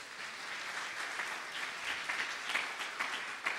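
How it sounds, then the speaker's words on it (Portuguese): Church congregation applauding during a sermon, a soft, even wash of many hands clapping, fairly faint and steady throughout with a few sharper claps near the end. "Você pode aplaudir o Senhor por isso?"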